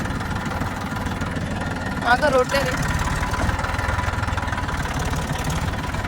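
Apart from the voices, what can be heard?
tractor engine idling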